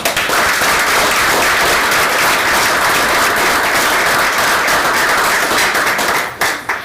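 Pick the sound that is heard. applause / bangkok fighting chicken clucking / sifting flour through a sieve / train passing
applause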